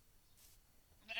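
A sheep in the video game Minecraft gives a single short bleat at the very end, faint against a quiet background.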